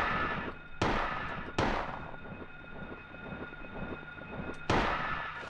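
Gunfire in the Silent Hill video game, aimed at bats: four sharp, loud shots spaced irregularly over a few seconds, each followed by a ringing tail over a low droning background.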